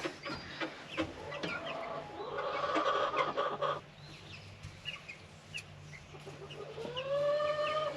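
Hens cluck and murmur around the coop, several birds calling close by in uneven bursts, with a drawn-out squawk near the end over a low background hum.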